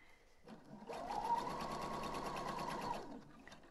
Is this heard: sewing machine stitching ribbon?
yes